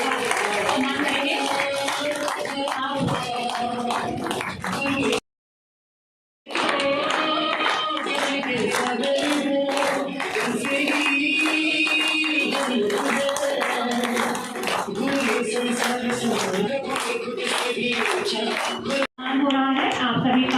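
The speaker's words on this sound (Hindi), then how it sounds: "आप सभी ताली बजा करके इनका स्वागत करेंगे" An audience at a Teacher's Day school program claps in welcome for a guest: rhythmic group clapping mixed with singing and amplified music, broken by a brief silent gap, then resuming at the same loud level.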